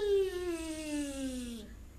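A single voice imitates a bee's buzz, one sustained sliding hum about a second and a half long that gently falls in pitch, heard close and alone before cutting off.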